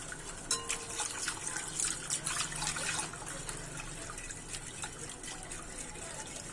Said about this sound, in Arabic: وغادي نضيف الماء، نحرك واحد شويه وغادي نضيف الماء.